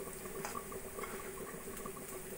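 Potato tikki, street-style aloo tikki patties, fry in hot oil with a continuous dense bubbling sizzle, steady and close, with no voices.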